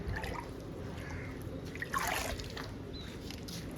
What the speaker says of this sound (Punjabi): ਇਧਰੋਂ ਭਰਦੇ ਆ ਤਾਜ਼ਾ ਪਾਣੀ